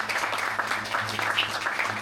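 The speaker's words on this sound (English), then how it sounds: "How about a round of applause for Gene Julian?" An audience gives a steady round of applause and clapping, dense and continuous for a couple of seconds at moderate distance.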